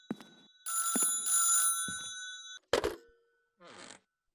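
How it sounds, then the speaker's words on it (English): A telephone bell rings in bright, sustained bursts, two long rings close by, interrupted by short spoken voices and a sharp knock. "There's a phone ringing."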